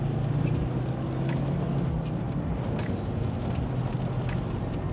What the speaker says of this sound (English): Heel and toe downshift the diesel.